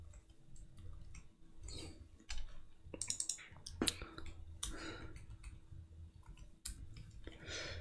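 Quiet keystrokes on a computer keyboard as a password is entered, sparse irregular clicks and taps with short pauses, fairly faint against a low background hum.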